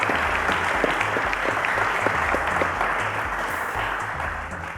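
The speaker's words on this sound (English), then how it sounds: "A round of applause to Victor, guys." A studio audience at a Cowbellpedia quiz show applauds a student contestant, dense steady clapping that holds loud throughout and eases slightly at the end.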